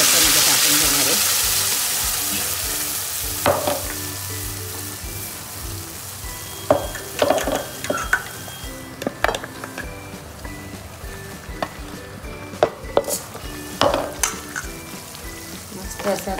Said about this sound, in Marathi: तेल गरम केलेलं आहे 2 चमचे. आता मी वाटलेलं वाटण त्याच्यामध्ये टाकून घेणार आहे.